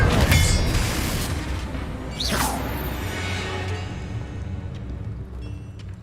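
Confringo fire spell cast in Hogwarts Legacy, a loud booming blast at the start with a sharp whoosh around two seconds, then a sustained rumbling roar that slowly fades.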